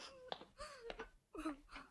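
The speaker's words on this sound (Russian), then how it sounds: "Да не реви ты, ради бога" A woman cries and wails in a Soviet-era film scene, faint drawn-out moaning sobs rising and falling in short uneven bursts.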